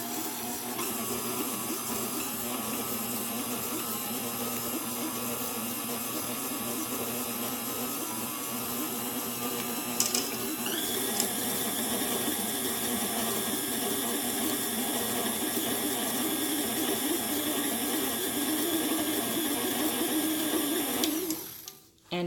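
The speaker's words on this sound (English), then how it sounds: "I'm just going to mix this until it's well incorporated and a little bit fluffy" An electric mixer runs continuously, beating shortening for gingerbread house dough, a steady close motor whine and hum that shifts slightly in pitch midway and cuts off at the end, with no talking.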